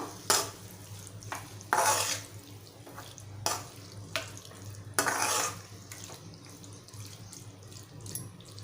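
Prawns and soaked kokum are stirred in a pot with a metal spoon: a handful of sharp scraping clatters at irregular intervals over a low steady hum, close and fairly loud.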